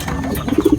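A racing pigeon gives a few short, soft coos close by, low and throaty, with faint background noise.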